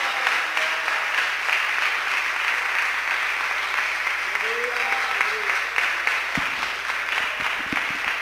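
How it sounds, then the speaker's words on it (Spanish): Church congregation applauding for Jesus, a steady dense wash of clapping across the whole span with faint voices mixed in and a few sharper claps near the end. "Dele ese aplauso a Jesús."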